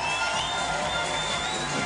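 A beach volleyball crowd at a 2015 World Tour quarterfinal match in The Hague cheers and roars in a steady, dense wash of noise, with no clear single voices.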